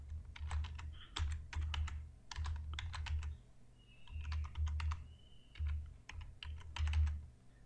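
Computer keyboard typing in fast bursts of clicky keystrokes while entering text for a Canva Facebook ad design, close and clear with short pauses between runs of keys.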